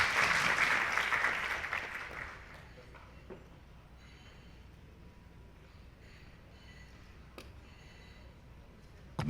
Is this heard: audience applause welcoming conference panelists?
yes